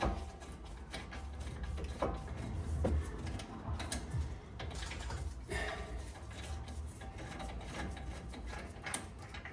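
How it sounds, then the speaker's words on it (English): A ratchet or wrench works loose the top T55 Torx bolt on the front brake caliper of a Porsche 911 991.2, giving close mechanical clicks and clunks over a steady low garage rumble. "I've already taken out the bottom 55 Torx bolt. I'm just doing the top now."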